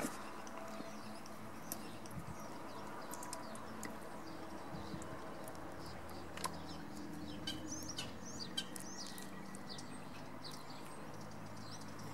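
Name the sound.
small birds chirping by the seaside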